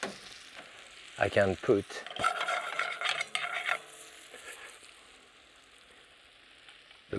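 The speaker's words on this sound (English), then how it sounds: "the brown butter, which should sizzle on top" Brown butter sizzles and crackles in a hot pan, a brief voice speaks over it, then the hissing fades to a quieter simmer.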